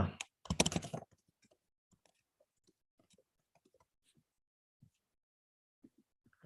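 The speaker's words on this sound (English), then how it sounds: "just typing some garbage here for the sake of training" Close, loud burst of rapid computer keyboard typing at the start, then scattered soft single key taps and clicks through a quiet stretch, ending with another sharp clatter.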